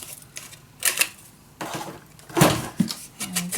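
Scissors snip a paper corner on a scrapbook folio page, producing a few crisp, quiet cuts and clicks spaced irregularly with short pauses between.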